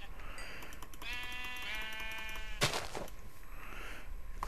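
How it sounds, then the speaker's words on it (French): Sheep bleating in the Minecraft video game: one drawn-out, quavering bleat in the middle, set against a steady background hum with a sharp click or thump just after it. "c'est l'île aux moutons"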